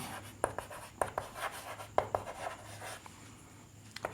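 Chalk or marker writing on a board during a class 10 maths lesson on polynomial division: a string of crisp taps and short scratchy strokes, close and fairly quiet, with no talking.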